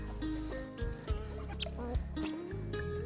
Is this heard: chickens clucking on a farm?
yes